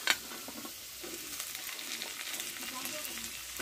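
Potatoes and yardlong beans frying in a pan, a soft continuous sizzle with faint stirring scrapes, steady and fairly quiet throughout.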